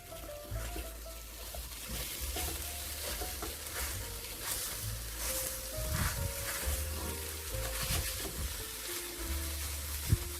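Scrambled egg with bacon and mushroom frying in a wok and chopped with a wok spatula, a soft sizzle with intermittent scraping and tapping of the spatula against the pan, close and fairly quiet.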